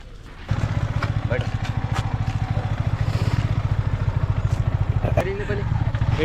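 A motorcycle engine starts up and chugs steadily at low speed, close by, its rapid pulsing rhythm steady throughout with some clatter on top.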